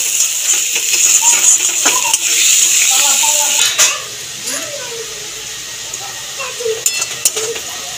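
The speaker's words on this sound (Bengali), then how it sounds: "পেঁয়াজটাকে নেড়ে চেড়ে ভালো করে ভেজে নেব।" Chopped onions fry in hot oil for a soya chunk dish, a steady sizzle and hiss running throughout while a spoon scrapes and clinks against the pan at intervals, with faint speech in the background.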